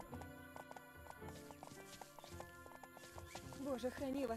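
A horse clip-clops along in the video game The Emperor's Own, with a run of hoof strikes over background music, and a voice talks near the end.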